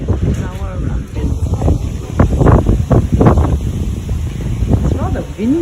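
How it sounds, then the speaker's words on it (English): Gusty wind buffets the microphone in heavy, uneven bursts on a high lookout in Provence during a bicycle tour, rumbling through the whole stretch while a person speaks underneath. "Rather windy up here, so I'm not sure about the audio"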